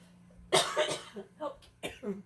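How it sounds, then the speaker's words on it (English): A sharp burst of coughing, several quick rough coughs in a row, close and fairly loud, with no talking. "keep me from coughing too much"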